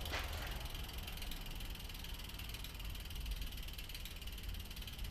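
Ratcheting clicks from a tool loosening bolts on a bicycle rear derailleur, a steady close mechanical pawl rattle with no voices.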